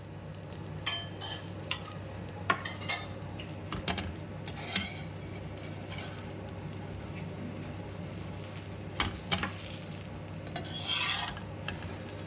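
Ghee sizzling on a masala dosa in a pan, a soft continuous frying hiss under intermittent scraping and clinks of a spatula against the pan, fairly quiet and close.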